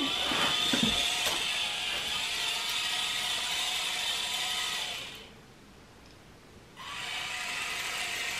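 Small Tetrix PRIZM robot DC motors whirring as the robot pivots in a circle, a steady whining, ratcheting gear hum that cuts out briefly, leaving near silence, then resumes running in the opposite direction.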